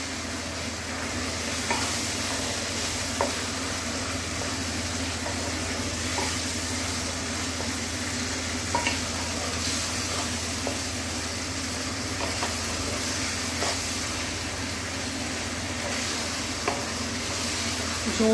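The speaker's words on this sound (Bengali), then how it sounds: "সমস্ত মশলা মাটন ভালোভাবে কষানো হোক" Mutton sautéing in a pan with ground coriander, cumin, chilli powder and salt, a steady close sizzle running throughout with occasional scraping stirs, no voices.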